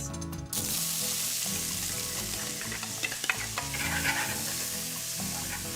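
Onions hit a hot pan of oil and sizzle loudly and steadily, with stirring scrapes and small crackles running through the frying noise.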